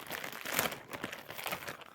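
Plastic packaging bag, one bag packed inside another, crinkling and rustling as it is opened, a busy irregular crackle lasting a couple of seconds, fairly quiet and with no talking.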